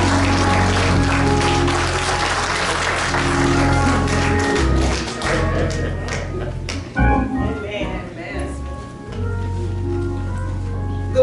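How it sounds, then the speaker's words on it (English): A church congregation claps hands in praise, a dense steady burst that gradually thins into scattered claps while organ or keyboard chords sustain underneath. "Can we give Sister Sheila a great big hand clap of praise?"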